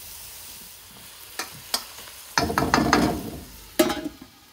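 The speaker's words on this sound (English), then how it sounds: "I need the onions to sweat down and soften up." Onions sizzle and hiss in a pan over a medium gas flame for a beef mince keema curry, with a few sharp clicks and stirring scrapes that break into a louder burst of frying.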